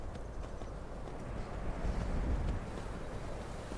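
Horse hooves clop steadily while riding across terrain in the Skyrim video game, a continuous moderate-volume gait with faint wind in the background and no talking.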